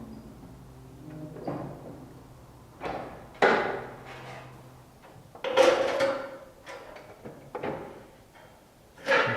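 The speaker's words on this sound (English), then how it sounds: "the pre-cut parts are all marked for bending, and we use a simple brake like this." Pre-cut sheet metal parts for a cookstove combustion chamber bent on a simple hand brake, giving several hollow metallic clunks and thumps spaced a second or two apart, close by in a workshop.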